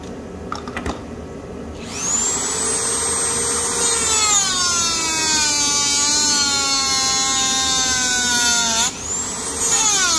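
A power tool whirs up and holds a rising whine while bolts are removed from an Alfa Romeo 156 GTA engine, running loudly for several seconds with a brief dip near the end.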